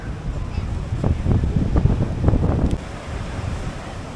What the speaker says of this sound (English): even with this wind that's blowing